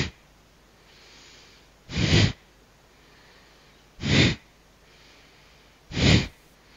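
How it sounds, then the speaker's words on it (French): Three forceful, sharp breaths pushed out through the nose by the diaphragm during yoga breathing practice, evenly spaced about two seconds apart, loud and close with quiet pauses between them. "vous forcez de l'air avec le diaphragme et puis l'inspiration, ça c'est automatique"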